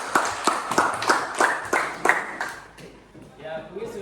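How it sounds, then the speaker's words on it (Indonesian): A classroom of students claps for a classmate, a run of sharp, evenly spaced claps for about two seconds that thins out and fades, with a voice speaking near the end. "Ya, tepuk tangan untuk Tiara"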